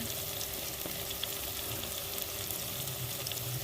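Onions, garlic, green chilies and tomatoes sauté with spices for an onion curry, giving a steady, even sizzle that holds throughout at moderate volume with no talk.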